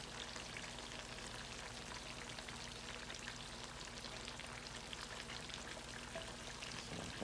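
Potatoes fry steadily in a pan of hot oil, giving a dense, even crackle and hiss that stays at one level throughout with no talking.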